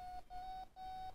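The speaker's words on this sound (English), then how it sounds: "if the plane is going up, it'll beep in a certain way" Three steady electronic beeps from an ExpressLRS (ELRS) receiver's radio vario on a DLG glider, each tone held about a third of a second with short gaps, clear and close with no talk.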